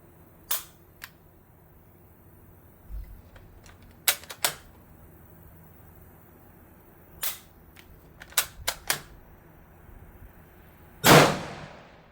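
A single loud, sharp rifle shot from a post-war Yugoslav Preduzece 44 Kar98K in 8x57 booms near the end, preceded by scattered short metallic clicks and handling knocks in a quiet setting.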